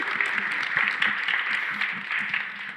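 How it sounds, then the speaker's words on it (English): An audience applauds youth panelists at a college and career readiness event with a steady burst of clapping, mixed with cheering and a few voices underneath. "Let's give these panelists a round of applause."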